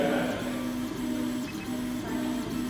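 A Shining 3D Einstart S 3D printer hums as it prints, its stepper motors sounding a rhythmic series of steady tonal whines in short repeating bursts over a faint air-conditioning hiss in an echoey room.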